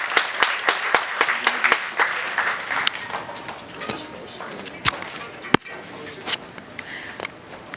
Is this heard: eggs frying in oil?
no